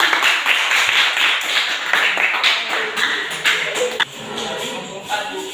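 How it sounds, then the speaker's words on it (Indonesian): A classroom of students gives a short round of clapping after a group presentation in a junior high school, a scattered, fairly close patter that thins out midway, with faint voices in the room. "tepuk tangan untuk"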